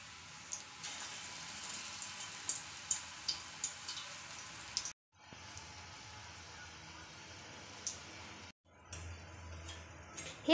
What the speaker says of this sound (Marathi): आता आपण तेलामध्ये तळून घेऊया। सर्व गोळे आपल्याला छोटे छोटे करून तळून घ्यायचे आहे।